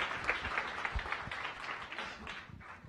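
Soft applause rises from the audience at a science café talk, with a few sharper individual claps standing out in a quiet, fairly distant wash that gradually thins.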